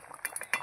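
A lid is set down over a pot of fish curry with fried fish pieces, giving a few quick, light metallic clinks close by, with no talking.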